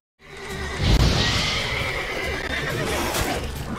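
A horse in the game Witcher 3 whinnies loudly and close, a single drawn-out neigh with a snort near the start, set over a steady outdoor ambience with faint hoof clops.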